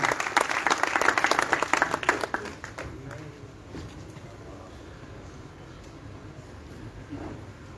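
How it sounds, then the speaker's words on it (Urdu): A crowd at a Kashmir Day political gathering in Pakistan claps loudly to welcome a speaker, a dense burst of applause that fades after about three seconds into quieter background murmur. "سینئر وائس چیئرمین اشفاق منگی بھائی، آپ کی بھرپور تالیوں میں دعوت خطاب دوں گا."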